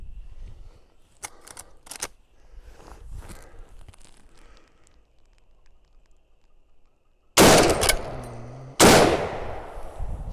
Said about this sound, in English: So let's shoot across the chronograph, see what kind of velocities we get.